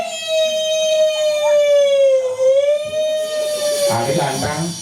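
A voice imitates an ambulance siren with a sustained, wavering wail that dips and recovers, then breaks into rougher vocal noise near the end.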